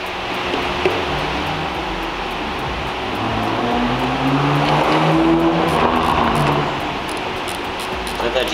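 A Nissan GT-R drives past outside, its engine note rising and swelling over a few seconds before fading. People talk nearby over steady background noise.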